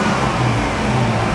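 A Land Rover 101 engine idles steadily, a continuous low rumbling drone with a smooth, even texture and no revving, heard close and alone.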